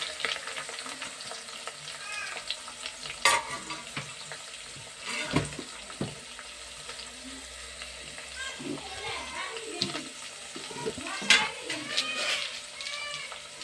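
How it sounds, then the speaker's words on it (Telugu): Curry leaves sizzling in hot oil in a home kitchen pan, a steady crackling hiss with occasional stirring clinks while someone talks over it. "ముందు వేగుతుందండి కరివేపాకు."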